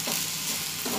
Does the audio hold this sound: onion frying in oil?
yes